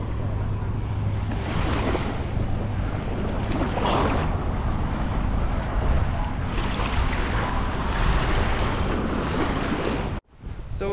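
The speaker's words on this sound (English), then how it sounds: "So here I am in the Pacific Ocean with my feet in the water." Ocean waves wash steadily onto a Pacific beach, a loud continuous roar of surf with heavy wind buffeting the microphone throughout, ending abruptly.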